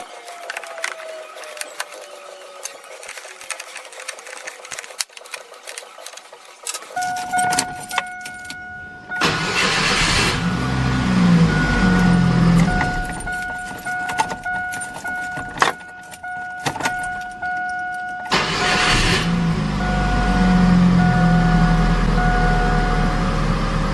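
A starter motor cranks a Chevy S10 2.2L engine in two loud bursts over a steady mechanical hum, with clinking metal nearby and no voices.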